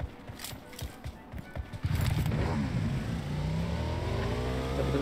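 Footsteps patter in the PUBG Mobile game before a motorbike engine starts up and revs, then holds a loud, steady drone up close.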